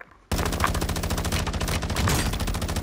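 Rapid automatic gunfire in Call of Duty: Warzone 2.0 cuts in after a brief quiet moment, then keeps going as a loud, dense, steady burst of close shots that lasts almost three seconds.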